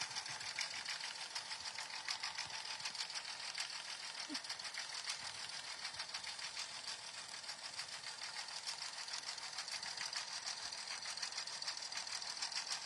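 A sewing machine runs continuously, stitching a fabric notebook cover with a fast, even mechanical chatter of needle strokes, moderately close and steady throughout with no talk.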